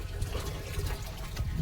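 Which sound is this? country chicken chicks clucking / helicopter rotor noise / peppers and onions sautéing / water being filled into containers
water being filled into containers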